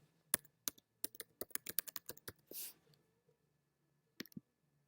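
Crisp keystrokes on a computer keyboard come in quick, irregular bursts, with a brief soft rustle in the middle and two final taps after a short pause, all close and quiet.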